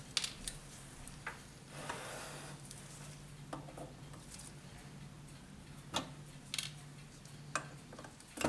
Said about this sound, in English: Removing the retaining pins.